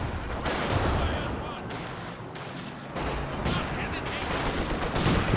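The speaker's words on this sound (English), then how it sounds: "Calliope barrage, but again dodged by Mumiago." Calliope rocket artillery barrage in Company of Heroes 2, a rapid rolling series of rocket launches and impacts layered over constant battlefield noise, steady and loud throughout.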